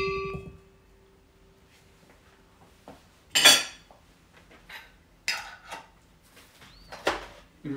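A spoon scooping old-style mustard from a bowl, heard as a few separate metallic clinks and scrapes against the dish, close and fairly quiet, with near silence between them.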